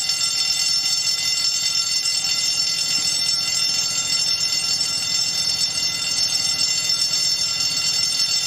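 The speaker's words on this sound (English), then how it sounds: "knock that alarm bell out." An alarm bell rings without a break through a long stretch, loud and steady with a metallic, even tone and no pauses.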